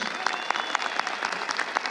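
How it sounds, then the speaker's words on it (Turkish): A crowd at an outdoor political gathering applauds press workers: rapid, steady clapping from many people, fairly close and continuous for two seconds, with distinct sharper claps standing out now and then. "Onları alkış"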